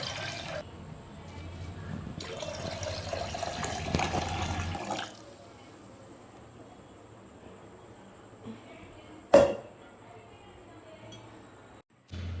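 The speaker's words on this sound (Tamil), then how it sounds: "ஒரு 4 கப் தண்ணியை கோதுமை பாலோடையே சேர்த்து வச்சிடலாம்." Water poured into wheat milk in a pot while making Tirunelveli wheat halwa, a few seconds of splashing fill that stops, followed by quieter kitchen sounds and a brief sharp clink.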